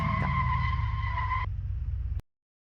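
A 1990s Toyota AE86 Trueno without a limited-slip differential drifting on a mountain pass, its tires giving a steady, loud squealing tone that suddenly shifts lower, runs on briefly, then cuts off abruptly.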